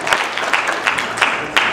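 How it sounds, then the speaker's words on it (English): Audience applause at an anime convention, a dense crowd clapping steadily with a few louder bursts, close and continuous for under two seconds. "Give yourself a round of applause."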